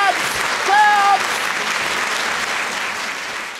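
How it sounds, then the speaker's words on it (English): A studio audience at a late-night talk show claps loudly and steadily, with a short whistle rising over the applause near the start before it settles into an even patter. "Clap, please, clap!"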